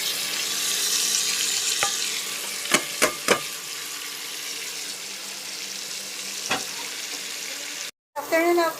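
Ingredients sautéed in a pan for a Bicol Express-style dish with chili: a continuous frying hiss with a few sharp utensil knocks, then a brief silence and a short burst of different sizzling at the end.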